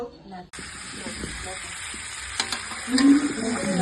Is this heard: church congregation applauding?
no